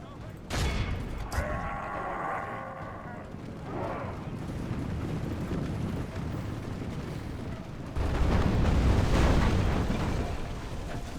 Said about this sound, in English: Right, catapults. We're using standard shot just so we can accurately destroy these walls.